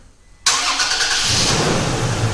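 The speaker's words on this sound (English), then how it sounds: "This will trigger remote starting." A 2016-2023 Toyota Tacoma engine starts by remote starter: a quiet moment, then a sudden close crank that catches and settles into a loud, steady idle.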